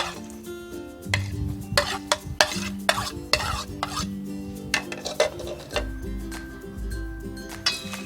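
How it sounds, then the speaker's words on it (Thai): Utensils scrape and clink against a bowl in irregular strokes as a Thai fried egg salad with vegetables is stirred and tossed, with soft music in the background. "คนให้เข้ากันค่ะ"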